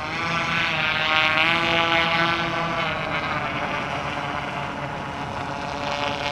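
A quarter-scale model aircraft engine runs steadily during water trials, a loud, continuous buzzing drone with a dense harmonic whine that holds near constant pitch and level throughout, close by and uninterrupted.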